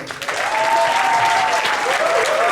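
Sustained audience applause for a stage team, loud and steady throughout, with a faint tonal whistle or feedback line running beneath the clapping.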